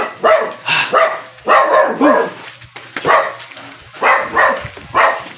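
Dogs bark repeatedly in loud, close bursts, several barks in quick succession, with short pauses between volleys.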